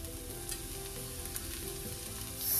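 Onions for a hotel-style masala dosa filling fry in a pan, giving off a steady, close, dense sizzle that swells slightly at the end, with no voices.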